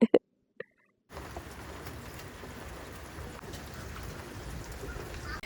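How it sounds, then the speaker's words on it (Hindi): Steady rain falls outdoors on a mixed-weather day, a broad continuous patter that starts abruptly after a second of near silence and a few brief knocks, then holds evenly throughout with no talk. "अभी बारिश हो रही है"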